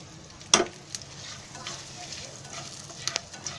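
Mustard seeds, cumin, curry leaves and asafoetida fry in hot oil as palak paneer begins, giving a close, steady sizzle with a sharp spatter burst at the start and light stirring clinks, and no voices.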